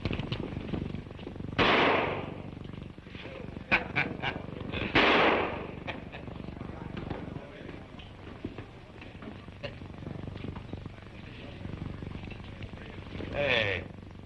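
Gunshots ring out in a shooting contest for $50 a shot, a few sharp loud cracks spaced seconds apart with voices talking between them in an old western scene.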